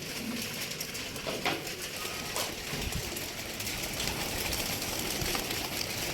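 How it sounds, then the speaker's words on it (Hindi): Pigeons cooing softly outdoors in Pakistan amid steady background noise, with occasional flutters as some fly overhead, and faint ambient sounds. "सारे कबूतर माशाल्लाह मज़े में एंजॉय कर रहे हैं, ऊपर वाले उड़ रहे हैं।"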